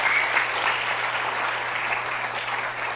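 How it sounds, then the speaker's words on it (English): Audience at a WordPress plugin talk applauds in a brief, steady wash of clapping, dense and even, with a faint low hum underneath. "I think we should give a round of applause to all the WordPress plugin developers"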